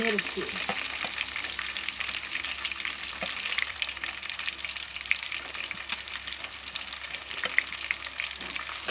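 Green chilies dropped into garlic already frying in hot oil, giving a steady, close crackling sizzle with soft stirring scrapes throughout while rice masala bhaat is started.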